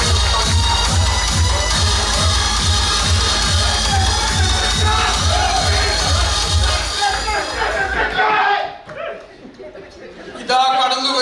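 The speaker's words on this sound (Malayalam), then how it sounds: "നല്ലൊരു കൈയടി." A crowd at a Kerala Samajam of Greater New York Vishu–Easter community celebration claps loudly for several seconds in a dense, continuous wash of applause with some murmuring, then it quickly dies away to a quieter room.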